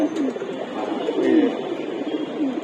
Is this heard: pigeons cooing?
yes